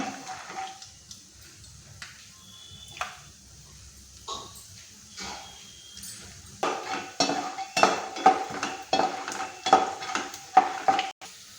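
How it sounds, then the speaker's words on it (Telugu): Peanuts tossed into hot oil in a pan and stirred, giving scattered scraping and clinking strokes over a faint sizzle, growing busier and louder toward the end. "ఆయిల్ వేడయిందండి దీనిలో కొంచెం పల్లీలు లేపుకుందాం"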